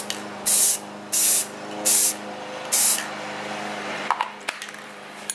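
Four bursts of aerosol spray paint on restored foglights, each lasting about half a second with short pauses between, loud and close, followed by a few faint clicks and handling noises.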